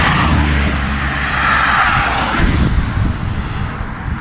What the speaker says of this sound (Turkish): Tünellerdeyiz. Arabalardan ses var.